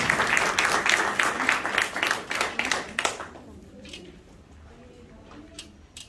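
Lively audience applause greeting Abid Ali Baig, guest of honour at a book inauguration gathering, with loud, dense clapping for about three seconds before it thins out into scattered claps and quiet room noise.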